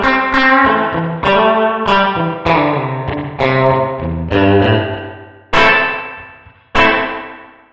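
Electric guitar played through the Line 6 Helix spring reverb, firmware 3.1: a series of loud picked chords and single notes, each ringing out with a long splashy spring tail, the last two struck hard and left to decay.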